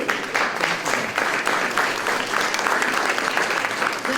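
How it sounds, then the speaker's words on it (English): An audience at a community awards gathering applauds the chair and co-chair, dense even clapping from many people that holds at a steady level for four seconds without any talk. "So they deserve a great round of applause for it."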